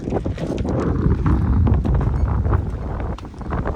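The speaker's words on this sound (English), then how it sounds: "Still windy." Gusty wind buffeting the microphone outdoors in remote Alaskan glacier country, a loud rumbling rush that rises and falls.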